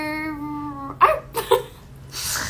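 A person imitates a dog with a few short yelping barks and whimpery sounds, after a steady tone fades out.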